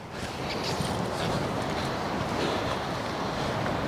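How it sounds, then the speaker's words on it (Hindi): Sea waves wash up near a bridge on a German island, a steady broad surf roar with some wind, continuous and fairly close, with no talking. "इस टाइम लहरें जो है वो ऊपर आ रही हैं"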